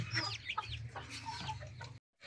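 Chickens cluck steadily at close range over low background rumble, cutting off abruptly at the end.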